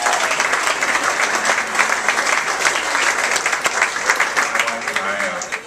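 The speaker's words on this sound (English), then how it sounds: "Alice Vestal, let's give her a big hand" An audience applauding a female bluegrass vocalist at a live show, dense steady clapping from a crowd that holds strong for several seconds before tapering slightly at the end.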